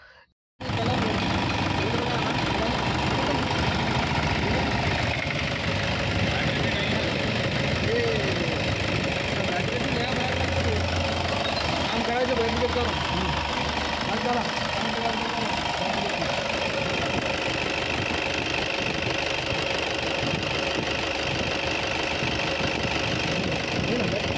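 A 2005 Toyota Innova engine idles steadily, a constant mid-pitched hum and rumble held close for the whole stretch, with no talk over it.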